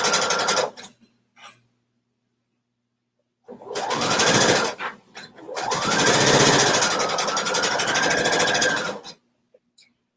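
A sewing machine runs a straight stitch of 3.0 length down a fabric tube with a quarter-inch seam allowance, a close, steady mechanical whirring in two runs, a short burst, then a longer sustained stretch, with rising and falling motor pitch.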